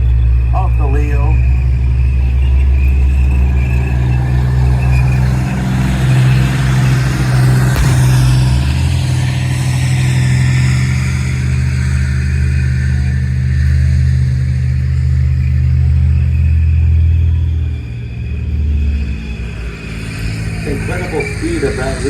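M60 tank in a charge toward a Leopard tank at a tank event, its engine roaring in a loud, sustained low rumble that surges and then eases slightly near the end, with a voice talking over it.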